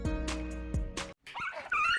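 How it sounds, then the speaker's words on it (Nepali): A dog whimpers and yips in a few short, close, high cries, followed by a brief pause and then rougher, scratchy yelps. "किन लखडा तिमीहरूले कुकुरलाई?"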